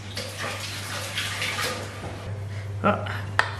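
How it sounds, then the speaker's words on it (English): Food pieces for nachos are rinsed under a running kitchen tap, a steady close water rush with a few brief clatters near the end over a low electrical hum. "Give it a quick rinse."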